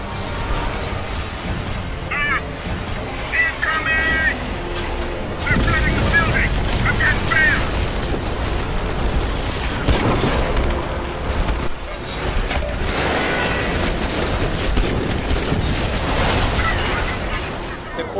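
Gunfire, grenade blasts and heavy booms from the futuristic shooter Crysis 2, where a nanosuit-clad super soldier fights; dense layered bursts and rumbling explosions play continuously, with a voice talking over much of the action.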